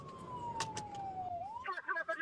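Emergency sirens from an ambulance and fire engine, a wailing tone sweeping downward and then rising again into a fast yelp, moderately distant with traffic rumble underneath and brief voices.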